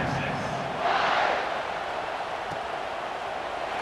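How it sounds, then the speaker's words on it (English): Stadium crowd in the College Football 26 video game, a steady broad roar of many voices that swells briefly into a louder cheer before settling back, with faint commentary underneath. "this crowd now ready to get behind them"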